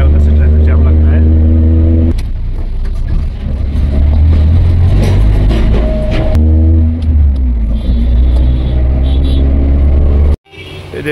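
Steady road traffic on the Sirhind route in Punjab, with a loud, continuous engine rumble from cars and vehicles passing close by, rising and falling over about ten seconds before a brief cut, with speech mixed in.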